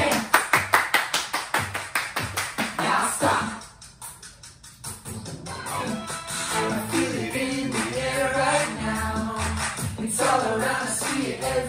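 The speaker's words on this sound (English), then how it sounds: "And everybody clap your hands" Preschool children clap their hands in a steady rhythmic beat during a song, a string of sharp claps at the start before the music and singing voices take over.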